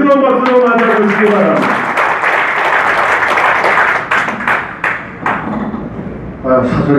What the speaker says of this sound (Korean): 뜨거운 박수로 맞아주시기